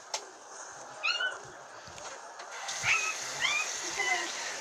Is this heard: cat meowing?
yes